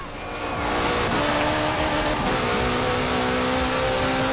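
Ferrari Enzo engine in the racing game Forza Horizon 4, a loud sustained roar that swells in the first half second and then holds steady at high revs with shifting harmonic tones, no talking.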